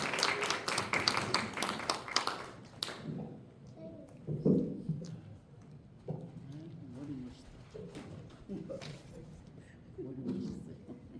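A church congregation applauds to welcome a pastor, a dense burst of clapping that fills the first few seconds and then fades as a voice begins speaking.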